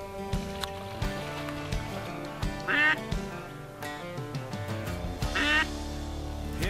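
Ducks quacking during a duck hunt outdoors on the water, two short bursts of calls standing out over steady background noise and scattered knocks.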